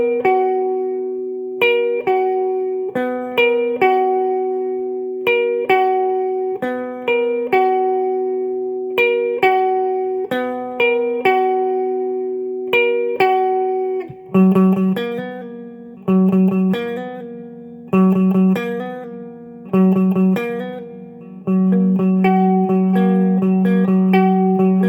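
An electric guitar plays the breakdown from a song: picked single-note phrases repeat steadily, then a denser lower-string section comes in, with a clean, close, steady tone and no voices.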